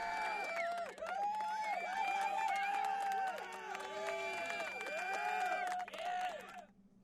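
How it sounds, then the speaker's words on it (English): Applause played as a sound effect from a RØDECaster Pro II podcast console: a dense crowd clapping and cheering with whoops, steady and loud for about six seconds before fading out. "We also have applause."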